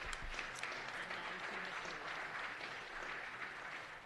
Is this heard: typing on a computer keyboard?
no